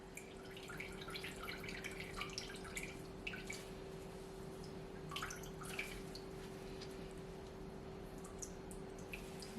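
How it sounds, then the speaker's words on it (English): Homemade almond milk drips and trickles from pulp being squeezed, faint scattered drops over a steady low hum in a quiet kitchen. "So you just want to squeeze as much as you can to get as much of the liquid out."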